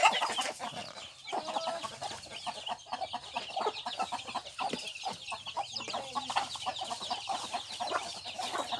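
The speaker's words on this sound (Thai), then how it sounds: "อันนี้ก็เป็น ไก่อยู่หลังบ้านนะครับ วันนี้แม่มาให้อาหารไก่" Several backyard chickens cluck and chatter busily together while being fed, a steady overlapping flock sound at moderate distance with no speech.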